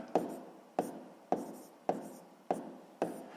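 A pen writes out a decimal subtraction problem on paper, giving six short, crisp scratching strokes at an even rhythm, close and clear with no voices.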